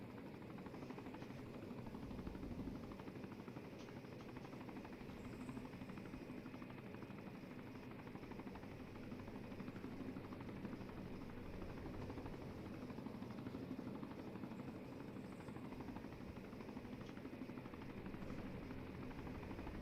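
A helicopter nicknamed Sharky lifts off, its steady rotor drone and engine buzz holding at a constant distant level for the whole stretch, with no voices over it.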